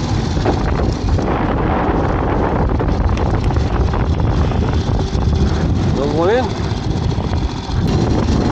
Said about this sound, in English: Certainly breezy out here.